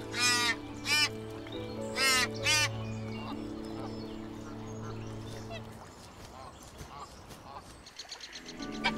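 Geese honk loudly and close in several harsh, rising calls at the start, over a low humming drone, before the scene fades into quieter rustling and faint distant cries.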